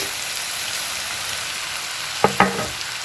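Cooked rice sizzles steadily in a hot pan with fish sauce, a dense continuous frying hiss, followed by two sharp clattering knocks of a utensil near the end.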